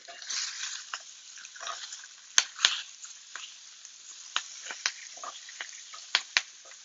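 Torn leafy greens sizzle quietly in a hot pan, giving a soft steady hiss broken by scattered sharp pops and crackles throughout, with no voices.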